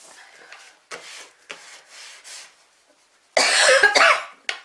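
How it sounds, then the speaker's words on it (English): A burst of harsh coughs comes near the end, close and loud, after a stretch of quiet rubbing and handling sounds. "I can't get rid of this cough."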